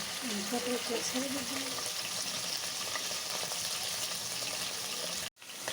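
Onion frying in a pan, a quiet continuous sizzle under a brief stretch of a voice near the start, ending in a short dropout.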